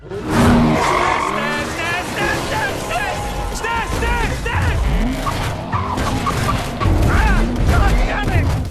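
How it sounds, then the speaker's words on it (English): Tires screech and skid repeatedly amid roaring engines and crashes in a frantic Mission: Impossible film car chase, with speech heard over the chaotic noise. "The resultant chase between the IMF and Faust brings mind-boggling car stunts to the big screen"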